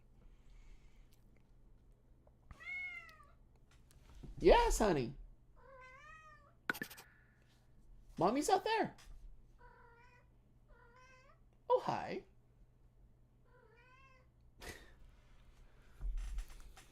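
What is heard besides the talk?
cat meowing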